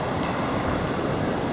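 A river stream carrying cherry blossom petals rushes steadily, a dense, even broadband wash of flowing water heard up close without pause.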